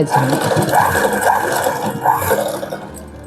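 A sewing machine stitches a blouse with a steady mechanical whirr and rattle, running close and fairly loud for a few seconds with a voice partly over it.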